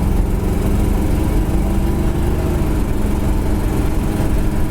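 A 1969 Chevrolet Nova SS engine idles steadily and close, a smooth low rumble that holds even and unbroken throughout, with no talking over it.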